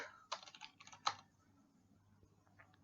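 Someone types on a computer keyboard while working in design software. A few quick bursts of key clicks come early, then sparse, fainter taps over a quiet room.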